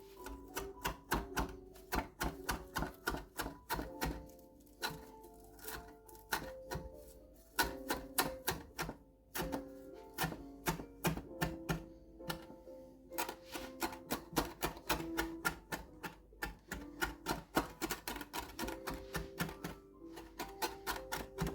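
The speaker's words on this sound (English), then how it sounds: "we just chop it a bit" Knife chopping frozen parsley on a cutting board, a long run of quick, crisp, rhythmic taps in bursts with brief pauses, close and fairly quiet.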